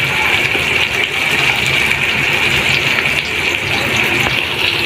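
Water pours steadily into a pan of frying spice masala, a loud, continuous gushing splash lasting several seconds with no speech.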